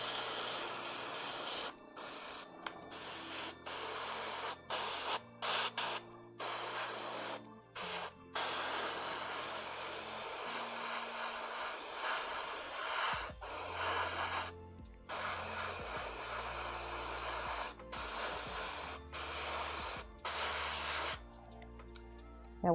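An airbrush sprays paint onto a Wind Rider model in short and long hissing bursts broken by brief pauses, steady and close, with no talking.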